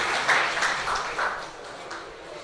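An audience at a college mushaira applauds a poet: a steady, dense wash of many hands clapping at once, fairly loud, rising slightly in a few places before tapering.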